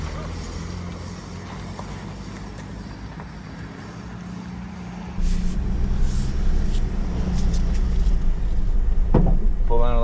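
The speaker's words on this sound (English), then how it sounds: "So I'm going to slap it in gear and get it started and see if we can drive around the yard a little bit" An old Ford Ranger truck sits idling low, then its engine revs up abruptly about halfway through and keeps running louder and steadier as it is put in first gear and driven in a yard, with brief talk nearby.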